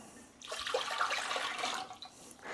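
Water is poured into a crock pot, a splashing, rushing stream that swells in and runs for a couple of seconds before tapering, close and moderately loud with no voices.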